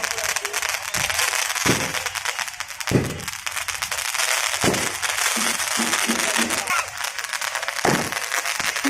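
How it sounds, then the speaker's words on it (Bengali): Firecrackers burst one after another as a wedding party arrives, sharp cracks scattered over a loud crowded scene with people talking throughout. "বরপক্ষে সব বাজি ফোটানো হচ্ছে।"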